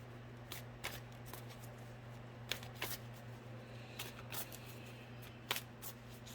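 Tarot cards being shuffled and pulled from the deck for a daily tarot reading: soft papery riffles and brisk snapping flicks at irregular moments, faint over a steady low hum, with no talking.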